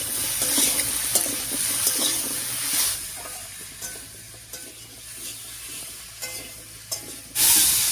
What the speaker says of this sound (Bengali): হলুদ লবণ দিয়ে সবজিটাকে একটু রান্না করে নিয়েছি।